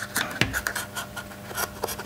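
A knife trims along the edge of a plastic flash diffuser for a Canon MT24-EX, giving short scraping and cutting scratches in an irregular rhythm, close and moderately loud.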